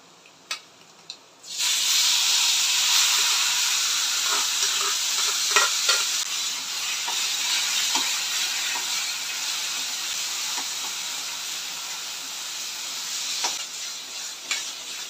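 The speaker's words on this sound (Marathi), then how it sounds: "मोहरी, थोडासा ठेवलेला लसूण, भरीतचं जे आपण मिश्रण तयार करून घेतलंय ते आपण आता यामध्ये घालूया।" Brinjal bharit mixture with mustard seeds and garlic hisses and sizzles steadily in hot oil after a quiet start, with scattered scraping stirs and small clicks throughout; no one speaks.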